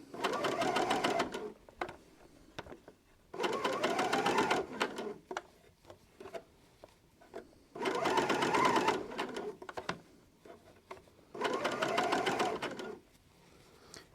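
A sewing machine runs a seam round a knitted jumper that is being taken in. It plays in four bursts of steady, close, motorised stitching of about two seconds each, with short quiet pauses between them.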